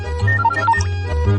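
A short electronic phone ringtone plays a quick melodic phrase of bright tones over a low hum, close and clear.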